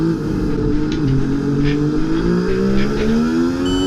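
High-pitched F1 race car engine from the EA Sports F1 game at Monza's Italian Grand Prix, loud and close, revving steadily upward through gears with no talk over it.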